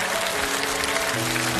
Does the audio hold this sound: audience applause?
yes